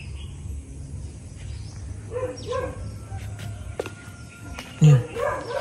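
A dog barks and yips in short bursts, playful and mid-distance, with one louder bark near the end over faint background sounds.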